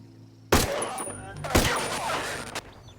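Two sharp, loud unsuppressed bursts from a G36C rifle in the shooter game Ghost Recon Breakpoint crack about a second apart, each followed by a reverberant tail over a low hum.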